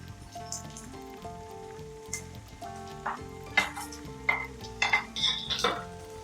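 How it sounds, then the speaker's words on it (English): Chopped garlic and ginger hit onions frying in ghee for a chicken ghee roast, a close sizzle joined by sharp clattering strikes of a utensil against the pan and soft musical tones underneath. "Now I'm going to add in the chopped garlic and ginger."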